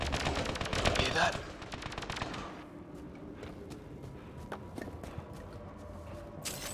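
Gunfire in the sci-fi shooter Mass Effect Andromeda: rapid automatic bursts crackle loudly at first, then thin out into scattered distant shots and sharp cracks, with faint voices in the background.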